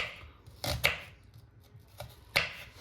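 A knife chops onions finely on a cutting board with a few sharp, uneven knocks, close and clear, separated by quiet gaps.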